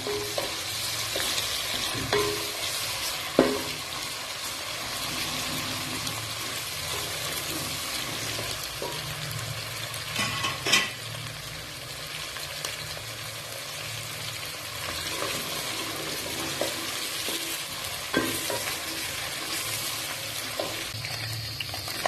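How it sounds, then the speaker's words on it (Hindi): Steady sizzling of garlic ginger paste frying in a pan, with occasional stirring clatter and scraping throughout, no voices. "लहसुन और अदरक का पेस्ट जो है वो शामिल कर दूंगी और इसको भी 2 मिनट के लिए भूनूंगी"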